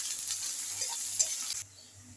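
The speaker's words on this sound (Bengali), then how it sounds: "দিয়ে দেবো পেঁয়াজ কুচি, হালকা করে ভেজে নেব" Chopped onion frying gently in hot oil with bay leaf, a soft continuous sizzle with faint stirring scrapes, close and steady before dropping quieter near the end.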